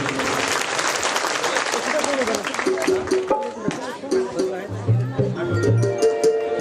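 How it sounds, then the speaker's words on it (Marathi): Loud applause for Vijay Pawar fills a Buddhist foundation-stone and Dhamma sermon event, with crowd clapping and hubbub dense at first, then thinning as music-like tones and voices rise over it. "जरा जोरदार टाळ्या होत विजयजी पवार यांच्यासाठी"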